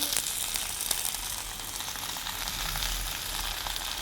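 Fish wrapped in turmeric leaves sizzling and frying steadily on an oiled tawa, a close, continuous crackle with no talk.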